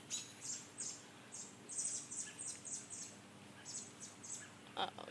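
A rescued bird chirps in a quick series of short, high tweets, moderately close and fairly faint against a steady background hum, with a sharper call near the end.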